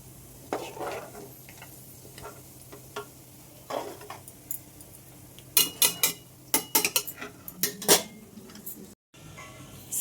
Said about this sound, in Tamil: இப்போ நல்லா மிக்ஸ் பண்ணிவிட்டு நம்ம சிம்மில் வச்சுட்டு நல்லா மிக்ஸ் பண்ணி விட்டுருவோம்